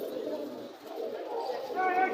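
Pigeons coo softly at a crowded pigeon market in Mirpur, a low steady murmur of many birds blended with background chatter, moderately distant and continuous.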